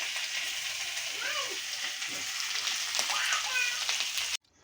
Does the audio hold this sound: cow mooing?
no